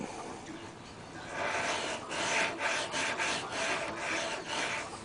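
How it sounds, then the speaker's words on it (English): A putty knife scrapes and rubs along silicone sealant in the corners of a solar water distiller, a close, steady smearing rasp with a few short strokes. "using the putty knife to smooth the silicone"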